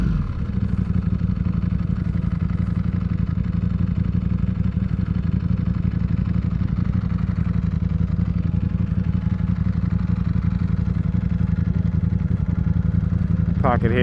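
A Ducati Panigale V4S motorcycle idles after a ride, its engine running steady and loud with cooling fans roaring continuously close by throughout.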